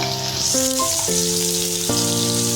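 Two spoons of masala with ginger-garlic paste frying in a pan for chicken keema chana masala: a steady, close hiss of sizzling oil under louder tonal music.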